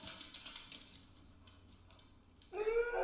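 A cat meows loudly near the end after a stretch of faint clicking and background noise, a single close drawn-out call.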